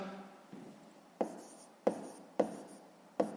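A pen writes on paper while a sixth-grade maths exercise is worked out. Several short, close scratching strokes come one after another, with quiet pauses between them and no speech.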